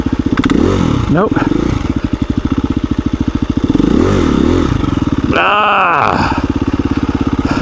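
A KTM 350 EXC-F dirt bike revs hard in repeated bursts on a trail during wheelie attempts, its engine loud and close throughout, with the rider speaking briefly over it.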